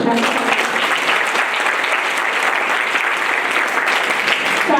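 An audience at a police training school anti-drug campaign closing ceremony in Pachmarhi bursts into loud, sustained applause, a dense wash of many hands clapping steadily from start to finish.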